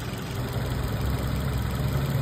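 A Maruti Suzuki Baleno Zeta with push-button start idles with a steady, even engine hum and low rumble that stays constant, close by and alone without any talk.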